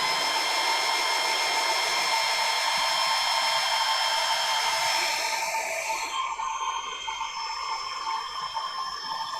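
A hot air blower heats a plastic Warhammer Baneblade tank barrel to soften it for bending. The close, loud, steady whooshing roar runs for about six seconds, then cuts off and leaves quiet room noise.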